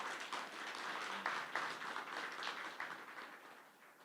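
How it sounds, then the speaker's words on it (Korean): A seated audience at a Korean academic conference gives a fairly faint round of clapping that stays steady throughout and then tapers slightly toward the end. "박수 부탁드립니다"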